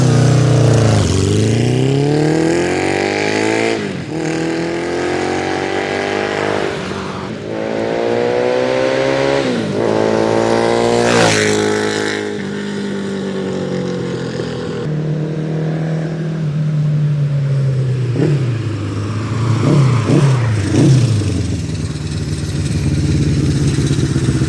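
A mint 1978 Honda CB550 Four K motorcycle on the road, its four-cylinder engine loud and close, repeatedly revving up through the gears with rising pitch sweeps and dropping back between shifts.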